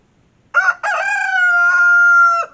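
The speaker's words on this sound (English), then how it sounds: "that rooster down there on the end, he's my biggest rooster." An American Buff rooster crows loudly and close by, one long drawn-out cock-a-doodle-doo with a short opening burst, heard on its own.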